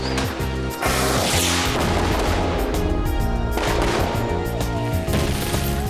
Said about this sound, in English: how to set off a mighty fine explosion